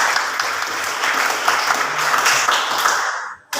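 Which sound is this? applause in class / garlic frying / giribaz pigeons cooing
applause in class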